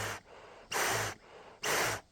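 Breaths pass through a full-face respirator mask in three slow, loud, hissing pulls, evenly spaced with short quiet gaps between them.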